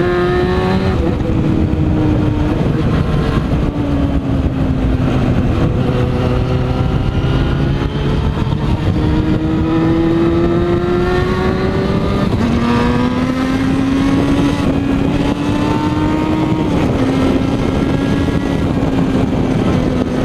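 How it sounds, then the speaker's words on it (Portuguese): A Yamaha FZ6N motorcycle is ridden while its engine is still warming up. The engine note climbs and falls through repeated gear changes, loud and close, with steady wind rush and no talk. "Acabamos de sair de casa, a moto tá esquentando ainda, 60, 70 graus."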